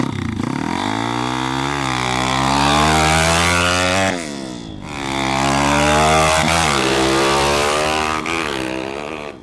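Dirt bike launching out of a motocross starting gate, a loud, close engine revving hard and rising in pitch as it accelerates, briefly dropping before climbing again on a second surge.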